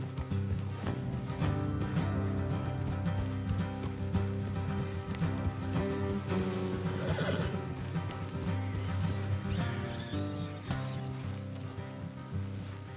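Horses snorting and whinnying during a ride in the video game Red Dead Redemption 2, close and continuous over an ambient background with a faint rustle.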